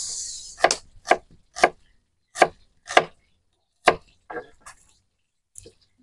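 A knife chops onion on a board in a series of crisp, close knocks, about eight spaced strokes with a brief pause, then a few lighter taps trailing off.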